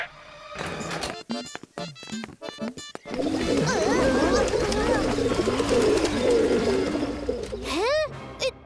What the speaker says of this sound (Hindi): इतने सारे कबूतर!